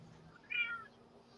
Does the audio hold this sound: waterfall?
no